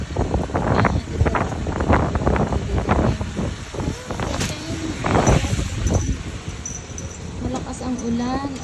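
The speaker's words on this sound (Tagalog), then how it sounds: "Malakas ang ulan at malakas din ang hangin." Strong gusting wind buffets the microphone while heavy rain falls, with people talking close by over the stormy noise.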